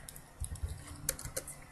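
Quick bursts of keystrokes on a computer keyboard as a web page title is typed, a short run of close, light clicks with small gaps and no voices.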